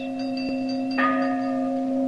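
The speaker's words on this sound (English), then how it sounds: "And that's a sound similar to the historic ringing of the Liberty Bell in 1776." Bell rung in the manner of the Liberty Bell, a steady resonant tone with a fresh strike about midway, humming and sustained on a slightly hissy old radio recording.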